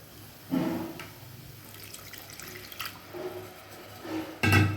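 Water pouring and splashing into a pan of cooking masala in a few short bursts, quiet and close, with faint kitchen clatter between pours.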